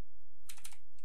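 Quick bursts of computer keyboard keystrokes, a short cluster of clicks close and distinct, on a PC while setting up the Steam version of the game TrickStyle.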